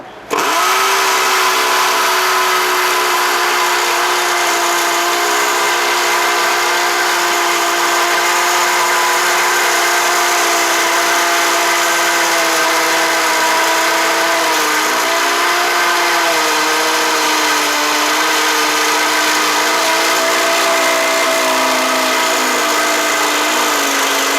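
A Makita M8103B 13 mm impact drill whines continuously at high speed, loud and close, its pitch dipping slightly as it bites into material, running without pause.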